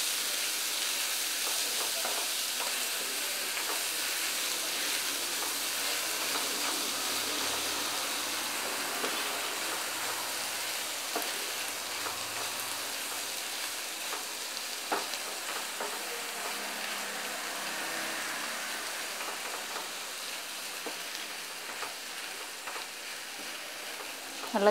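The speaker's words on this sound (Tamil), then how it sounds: "அந்த கீரையை இதில் போடுங்க. போட்டு இது நல்லா கலரி விடுங்க" Boiled spinach being stir-fried with onions in a pan gives a steady, even sizzle and hiss for the whole stretch, with faint scraping stirs now and then and no speech.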